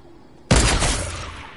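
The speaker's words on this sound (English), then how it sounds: "I just sniped a zombie" A single loud sniper rifle crack in Fortnite kills a zombie, a sharp close blast after a quiet lead-in that rings out and fades over about a second.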